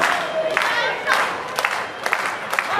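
Professional wrestling crowd cheering and clapping for a wrestler in the ring, a loud, continuous arena roar with scattered sharp claps and shouts, under commentary.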